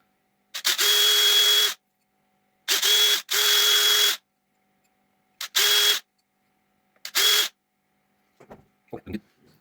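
Several bursts of a whining power drill boring eye holes into a carved wooden spoon, each lasting about a second with short pauses between, ending with faint handling clatter.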